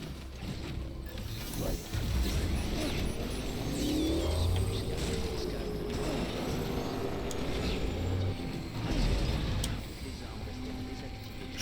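Motorbike engine in the video game Death Stranding, a steady mid-level rumble with some revving swells, running continuously under someone talking.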